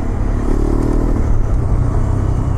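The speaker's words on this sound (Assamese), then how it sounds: "যেতিয়া মানে বাইকখন ডিএক্সিলেট কৰা যায় তেতিয়া কি হয় এটা হুইচেল চাউণ্ড আহে" A Hero XPulse 210 motorcycle rides on loose gravel, its engine a loud, steady close-up drone and whir as the bike decelerates, with no voices over it.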